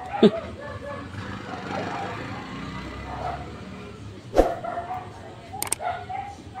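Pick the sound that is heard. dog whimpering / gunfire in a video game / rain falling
dog whimpering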